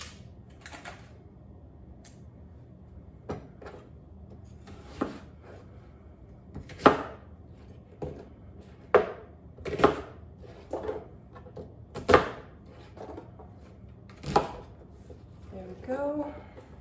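Knife chopping an onion into chunks on a cutting board during home meal prep, with sparse, irregular sharp knocks spaced a second or two apart, close by.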